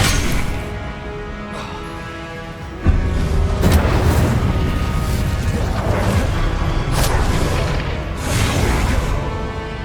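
A heavy booming blast from a fire spell cast in Hogwarts Legacy, a sudden loud impact a few seconds in followed by a sustained roaring, crackling rumble with further bursts layered over game music.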